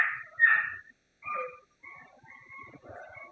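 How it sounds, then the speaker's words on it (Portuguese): A pet dog in a home gives a series of high, yelping barks and whiny yips in short bursts with brief pauses, fairly close and on its own. "a minha cachorra aí que adora latir para motoboy"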